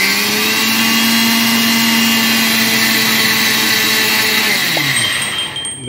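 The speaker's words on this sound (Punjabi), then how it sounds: "ਆਪਾਂ ਮਿਕਸੀ ਨੂੰ ਚਲਾਵਾਂਗੇ।" Electric mixer grinder whirring steadily as it grinds moong dal with a little water, a loud continuous motor drone that holds level before winding down near the end; no talking.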